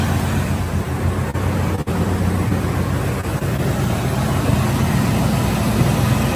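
A loud, steady low rumble of a muscle car engine idling close by, headers on a dual exhaust, a deep throaty exhaust note holding even throughout.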